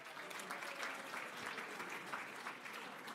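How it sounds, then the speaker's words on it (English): An audience at a Hofstra Athletics Hall of Fame induction ceremony applauds with a continuous, even wash of clapping, heard fairly faint and distant. "Ladies and gentlemen, a round of applause for Chris Weidman."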